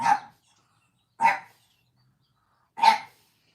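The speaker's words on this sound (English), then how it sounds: "let's try to put up with the barking a little bit" A single dog barks three times at spaced intervals, each bark short and fairly close, with silence between and no talking.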